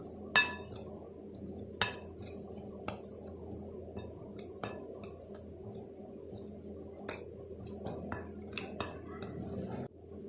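A spoon clinks and scrapes against a bowl while gulab jamun dough of milk powder, baking powder and ghee is stirred. The light, irregular metallic taps are close and quiet, with no voices.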